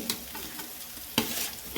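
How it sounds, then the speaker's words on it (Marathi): Chopped potatoes sizzle in hot oil tempering as a spoon stirs them, a steady close frying hiss broken by two sharp scraping strokes against the pan. "बटाटे टाकून घ्यायचे फोडणीमध्ये आणि छान मिक्स करून घ्यायचे"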